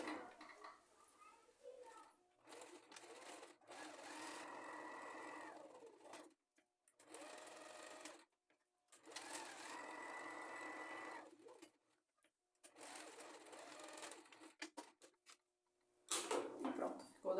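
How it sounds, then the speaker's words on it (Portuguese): Sewing machine stitching around the edge of a padded child's seat belt cushion, running in several bursts of a few seconds each with short pauses between them, close and fairly loud. "E aqui eu vou passar a costura em toda a volta só para poder fechar aqui e já rebater a costurinha aqui."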